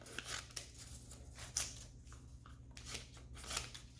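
Kids' scissors snipping through paper advertisements from the mail at home, a series of quick, soft crunching cuts at irregular intervals, fairly quiet and close with no talking.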